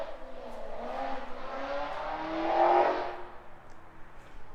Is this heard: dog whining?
no